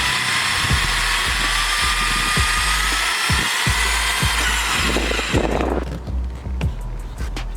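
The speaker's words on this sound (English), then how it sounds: "So let's drill the hole." A power drill whines steadily at close range, drilling a hole to mount canards on a Mazda3, with repeated sharp knocks and clatter, then winds down near the end as rustling and handling noises take over.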